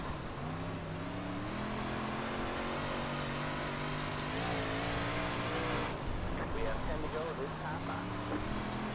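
A dirt 358 modified race car engine in the iRacing video game at Limaland, droning steadily with rising and falling pitch as it laps, alongside other cars, fairly faint throughout.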